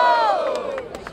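A crowd at the Batalha da Aldeia rap battle in Barueri, São Paulo, cheers and shouts loudly and close by in one brief burst.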